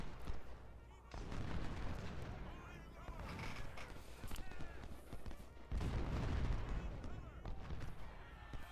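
Cannons boom in the Ultimate General: Civil War battle at Shiloh, with heavy blasts landing at irregular intervals over a steady battlefield din and faint voices.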